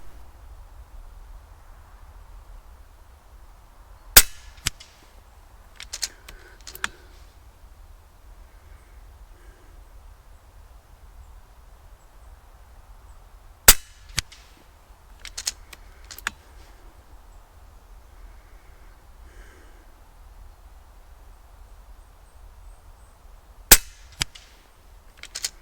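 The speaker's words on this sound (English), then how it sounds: "All the slugs will be shot with at least a few days in between them." FX Impact air rifle firing slugs: three sharp, isolated shots spaced several seconds apart, each with a brief echoing tail, over a low steady outdoor rumble.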